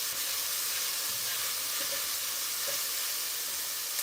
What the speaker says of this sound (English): I'm just sauteing the onions